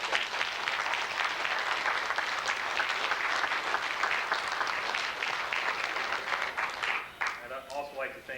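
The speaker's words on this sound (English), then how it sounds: "how about a nice round of applause for their performance today." Applause from an audience at a Veterans Day program follows a performance by a school choir and band. It is loud, dense and sustained for most of the stretch, then thins out as a voice begins speaking near the end.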